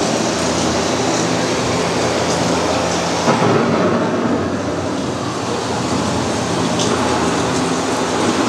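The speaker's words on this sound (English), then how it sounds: "The approaching storm may seem violent and destructive to us, but to nature, it's a new beginning in the cycle of life." A simulated thunderstorm on the EPCOT Living with the Land theme park ride at Walt Disney World, a loud, constant rumbling roar like heavy rain and thunder, swelling slightly partway through, with no talking.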